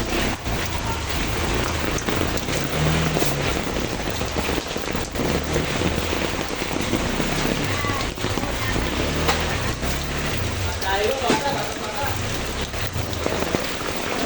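Heavy rain pours during Typhoon Carina amid flooding, a dense continuous roar of drops hitting surfaces, loud and close throughout.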